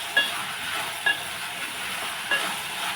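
Stirring a pot of dal curry (pappu charu) on the stove, with three soft scraping strokes of a spoon over a steady sizzling bubble, close and fairly loud, without talk.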